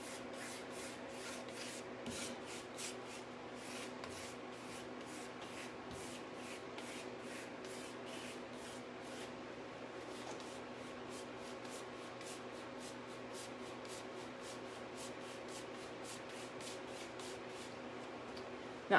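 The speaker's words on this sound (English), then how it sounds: "you're still doing this dry brush feathering effect" A brush dry-brushes chalk paint with light feathering strokes, producing faint, soft repeated scratchy swishes in a steady rhythm, close and quiet with no talking.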